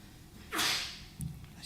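A single person sneezes once, a sharp, close burst with a short breathy tail, followed by a brief low vocal sound in a quiet room.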